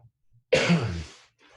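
A single person gives one hard, close cough that rasps off over about half a second, standing alone in an otherwise quiet room.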